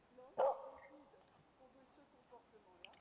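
A single sharp bark rings out close up, followed by faint whimpering and soft dog noises over a quiet background.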